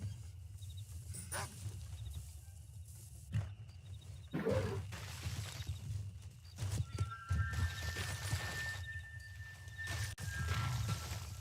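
Horse hoofbeats in the western game Red Dead Redemption, a soft irregular clip-clop under ambient game sounds, with snorts, scattered thuds and a brief whinny-like tone, quiet and somewhat distant.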